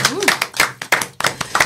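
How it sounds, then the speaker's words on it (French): A few people clap at a live cover-song radio session, giving sharp, uneven hand claps close to the microphone for under two seconds, with talking mixed in. "Yes, on peut applaudir."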